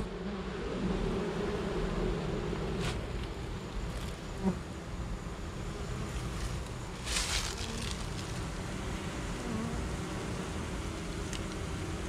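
Honeybees buzz steadily from a cable box as the comb is exposed during a hive removal, a dense close drone with a few brief louder bursts and no talking.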